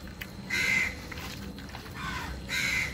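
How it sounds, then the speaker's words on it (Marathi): Crows caw at night outdoors near a cooking fire, with two or three harsh, fairly close calls spread over a few seconds against quiet background noise. "रात्र झाली तरी कावळे ओरडत आहेत."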